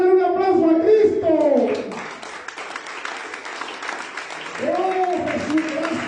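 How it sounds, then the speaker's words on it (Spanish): A church congregation breaks into applause during a Wednesday evening service, rising under a preacher's voice and continuing as a dense patter of clapping while he speaks again. "Den un aplauso a Cristo."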